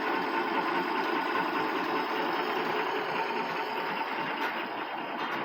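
An old truck nicknamed Old Blue idling on its first start in years, running on three- to four-year-old gasoline, with a steady close mechanical drone and a fast rattling tick under it, alone and without pauses.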